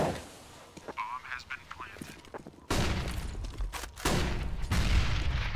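A grenade goes off in Counter-Strike on the map Nuke, giving a loud burst and rumble partway through. Heavy gunfire and more blasts follow, with a caster talking over the action.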